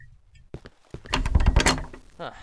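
A locked door tried in the video game Cry of Fear gives a series of hollow thunks and rattles, sparse at first and then clustered and louder as the handle is worked repeatedly.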